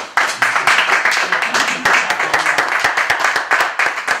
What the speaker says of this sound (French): we should give another big round of applause to the poet